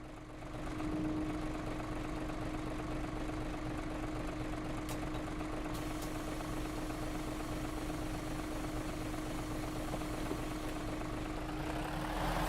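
A bus engine idles in the OMSI 2 bus simulator game, a steady low rumble with a constant droning hum that holds at an even level throughout, with no talking over it.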